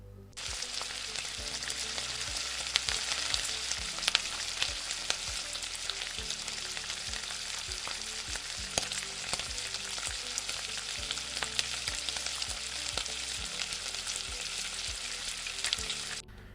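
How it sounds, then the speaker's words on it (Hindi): French fries refrying in oil in a pan, a steady dense sizzle with scattered crackles and pops running unbroken throughout, close and fairly loud with no talking. "इस तरह से मैं सारे फ्राइज़ पैन में ऐड कर दूंगी और इन्हें अब मैं फुल फ्राई कर लूँगी"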